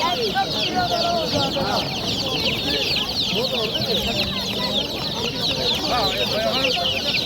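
Dense, constant peeping of many month-old chicks mixed with clucking chickens at a market in Namangan, close and loud without pause.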